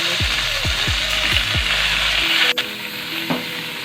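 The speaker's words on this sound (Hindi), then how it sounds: "अब इसमें हम अपनी चटनी डाल देंगे।" Chutney dropped into a pan of hot oil tempered with cumin seeds, loud steady sizzling with a few scraping stir strokes and clinks, close and continuous.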